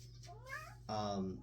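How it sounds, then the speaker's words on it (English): A cat gives two short meows close by, the first rising and thin, the second fuller and a little louder, over a faint background hum. "sorry, that's my cat."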